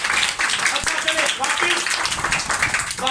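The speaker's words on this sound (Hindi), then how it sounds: "उस जलाली खुदा के लिए ताली बजाएं" A church audience claps for God during a Bible study gathering, with steady applause running throughout while a voice talks over it.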